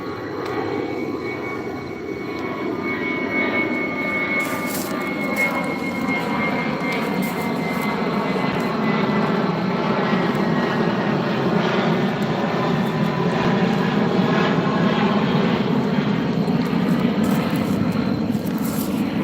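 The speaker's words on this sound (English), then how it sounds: "let me know if I'm clear as this plane goes by" Airplane flying overhead at night, a loud sustained engine roar whose pitch slowly sweeps downward as it passes, steady for the whole stretch with no voices.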